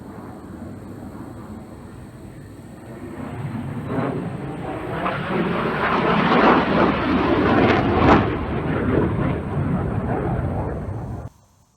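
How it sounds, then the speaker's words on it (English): Military jets pass overhead, a broad roar swelling from quiet to loud over several seconds, peaking and then cutting off abruptly, heard outdoors from the ground. "every couple of minutes military jets go flying overhead"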